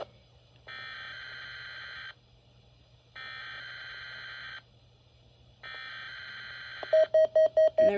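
Three long, harsh buzzing alert tones from a Midland NOAA weather radio, each about a second and a half with even gaps, followed by a rapid string of short beeps, loud and close with no talk.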